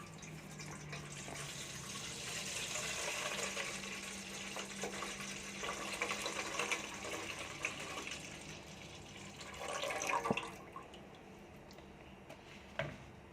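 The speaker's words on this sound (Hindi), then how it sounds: "सबसे पहले जो है हम पतीली के अंदर दूध डालेंगे" Milk poured into a cooking pot for kheer, a soft continuous liquid pour and gush running for several seconds at low level, ending with a few faint clinks.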